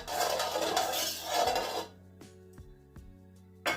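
A spoon stirring a dough mixture of water and salt in a bowl: a scraping, rattling stir at first, then a few sharp separate clinks of metal against the dish.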